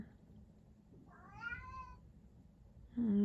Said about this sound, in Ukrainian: кіт